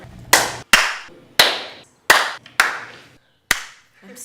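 A small group of people claps together in six separate short bursts with brief gaps between them, each burst a quick flurry of hand claps that fades out, and no one talks.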